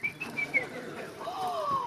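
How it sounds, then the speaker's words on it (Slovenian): A pet canary singing indoors, giving short high chirps and a sliding whistled note, close by and moderately loud, with a few faint low background sounds and no clear speech. "slišim mojega kanarčka"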